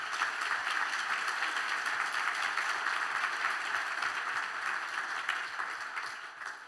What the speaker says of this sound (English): Let's give a round of applause for this amazing panel up here.